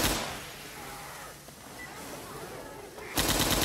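Rapid automatic gunfire rattles from the Left 4 Dead 2 video game, dense and continuous, with a brief lull before a louder burst near the end.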